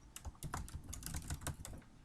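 Quick, faint clicking of keys on a computer keyboard, a steady run of light taps at close range with no voices.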